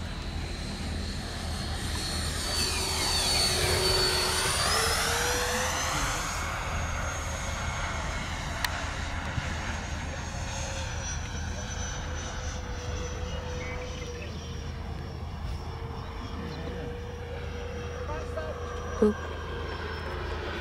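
Freewing B-2 model jet making a low pass with landing gear down at Kings Canyon, a steady whooshing engine drone rising and sweeping past in the open air, holding on throughout with a brief thump near the end.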